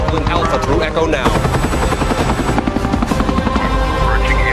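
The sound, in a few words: helicopters flying in an alien invasion movie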